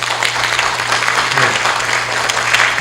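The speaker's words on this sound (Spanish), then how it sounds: "lo saludamos con un fuerte aplauso" Steady applause fills a seminar hall for a speaker from Peru's Supreme Court criminal chamber at a legal conference. An audience claps continuously at a loud, even level for the whole stretch.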